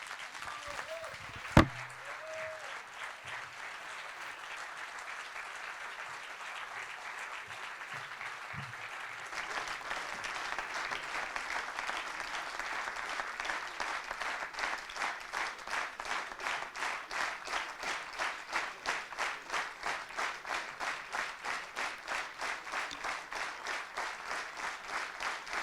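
Sustained applause from a crowd at a French political rally, steady and full for over twenty seconds, later settling into a rhythmic unison clapping.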